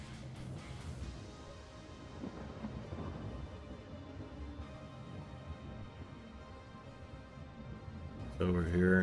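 Thunder from a lightning strike in the Vintage Story survival game rolls in as a low, distant rumble beneath someone talking.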